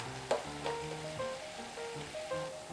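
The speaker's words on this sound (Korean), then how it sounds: "자, 끓는 물에 닭을 넣겠습니다." Chicken pieces drop into a pot of boiling water while blanching for a braised chicken dish, giving a splashy thump followed by a steady rolling bubble and hiss, close and moderately loud.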